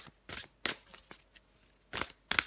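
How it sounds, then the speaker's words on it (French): Tarot cards being shuffled in a few quick, crisp riffling bursts, close and clear, with short pauses between the flurries and no talking. "je prends encore une carte pour vous, les taureaux"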